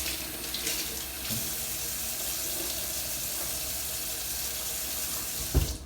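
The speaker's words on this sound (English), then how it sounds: "so I'm going to give it one final rinse" Tap water runs steadily into a sink while a makeup sponge is rinsed, a close, continuous splashing stream with a brief louder splash near the end.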